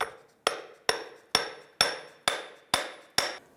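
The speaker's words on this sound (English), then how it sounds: "Go ahead and tap the yoke on." Eight evenly spaced metallic hammer taps ring out close and sharp as a driveshaft yoke is knocked onto a 2000-2006 Toyota Tundra driveshaft, each strike decaying briefly before the next.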